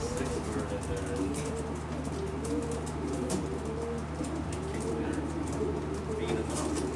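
Racing pigeons coo softly and steadily in a loft during pairing season, a low continuous murmur of several birds with a voice talking over it.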